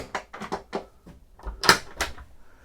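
Storage drawers in a Silent Yacht 55 electric yacht cabin slide and knock, with a series of short wooden clacks and thuds at close range and a sharper bang near the end.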